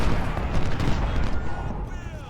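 Musket volleys in the Civil War game Ultimate General: Civil War, a dense continuous crackle of massed gunfire under a loud rumbling battle din, with a voice speaking over it.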